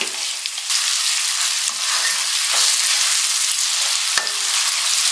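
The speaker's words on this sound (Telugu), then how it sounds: "టమాటాలు కూడా ఫ్రై అవ్వాలి కదా, ఇవన్నీ కలిపి కొంచెంసేపు వేగనిద్దాము" Tomatoes fry in a hot pan for rava kichadi, giving a loud, continuous close sizzle throughout with occasional soft stirring scrapes and small ticks.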